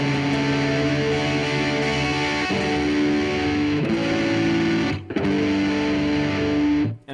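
A heavily distorted electric guitar strums sustained chords, changing chords every few seconds, loud and continuous with a brief cut near the end. It plays a song with open strings ringing, and no one speaks.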